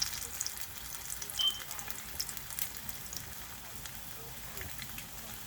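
Plantain and minced beef puffs fry in hot oil, a faint, steady crackling sizzle with a few small pops, low and continuous throughout.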